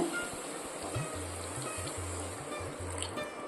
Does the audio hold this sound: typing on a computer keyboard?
no